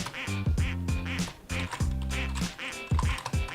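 A video game's ducks quack again and again, a run of loud, close, nasal honks in quick clusters set against steady background game sound.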